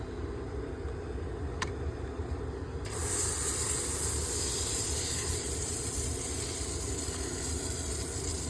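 Adams tire cleaner diluted 1:1 hisses steadily onto car tires caked with brake dust, a continuous close spray that grows louder and brighter partway through, with no talking.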